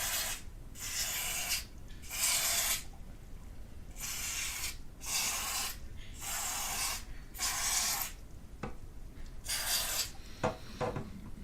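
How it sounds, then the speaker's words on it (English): Repeated short hissing bursts of a DeoxIT contact cleaner spray can aimed into the slots of an Apple II+ computer, about eight sprays in an uneven rhythm, close by, with faint clicks and taps between. "I want to spray some deoxit into the slots because they look dirty"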